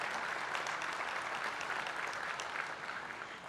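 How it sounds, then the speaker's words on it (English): At a leadership awards gala, a large audience applauds the Wells Fargo team with a dense, steady wash of clapping that sounds fairly distant and fades slightly toward the end. "Please give them a round of applause."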